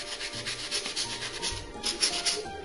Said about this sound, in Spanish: lo podemos pulir un poco con el papel de lija